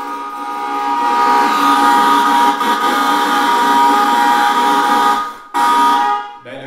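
A sustained electronic horn on an electric bike blares continuously for several seconds, loud and close, with a brief dip before cutting off.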